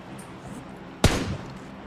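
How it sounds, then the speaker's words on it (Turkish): A flare gun fires in PUBG Mobile on the Sanhok map: one sharp, loud pop with a short ringing tail that rises out of a low, steady game backdrop, with no talking. "Fişek attılar fişek."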